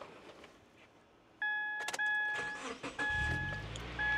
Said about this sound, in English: started the car